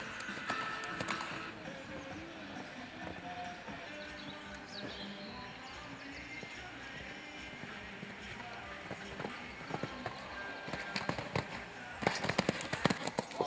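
Young horses in a timed show jumping competition, with faint hoof thuds and clatter under the murmur of an outdoor crowd and sharp cracks and bangs building toward the end.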